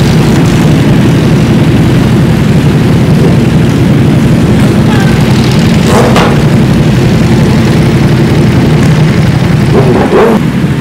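A group of superbike motorcycles arrives and parks with engines running, producing a loud, continuous, heavy low rumble and drone at close range, with faint voices in the background.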